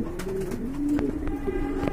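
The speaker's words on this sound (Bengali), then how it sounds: "বন্ধুরা এখানে কিন্তু দুই জোড়া লাহোরি কবুতর রয়েছে" Lahori pigeons, two pairs kept together, coo repeatedly in low, throaty, rolling calls that overlap one another. The birds sound close and steady, with no talk.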